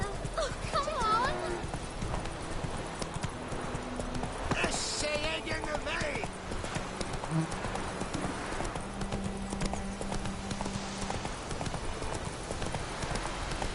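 Geralt's horse Roach galloping in The Witcher, a fast, steady clip-clop of hooves with a brief whinny, running under talk and faint game music throughout.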